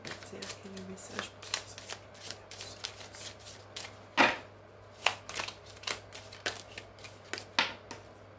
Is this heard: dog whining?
no